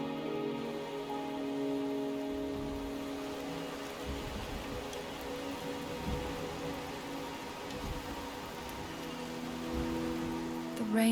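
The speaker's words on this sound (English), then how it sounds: "The rain is subsiding, and the sky will soon clear." Rain patters steadily on surfaces after a mountain storm, a soft, even hiss of drops with faint low rumbles underneath and a slight swell near the end.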